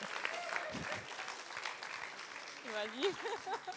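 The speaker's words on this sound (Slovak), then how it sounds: "Dáme jej potlesk." Studio audience applause during a Slovak talk show, a short burst of clapping that stays moderately loud, with voices talking over it toward the end.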